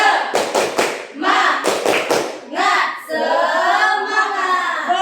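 A small group of students in a classroom counselling session claps out a quick rhythmic spirit clap, two short bursts of sharp claps, followed by sustained group voices chanting together.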